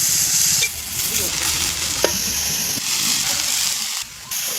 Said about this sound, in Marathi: आता बाळानं हे चांगलं फिरून काढू.